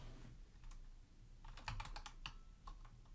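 Quiet keystrokes on a computer keyboard while a name is entered into a hopper dredge report form, a short flurry of taps with brief pauses between bursts.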